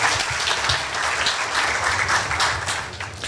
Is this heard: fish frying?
no